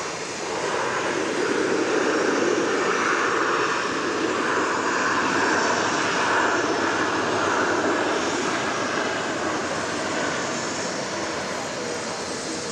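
An airliner passes at Dallas Love Field airport with a loud, sustained jet roar that swells slightly and then slowly fades over several seconds, outdoors with no talk.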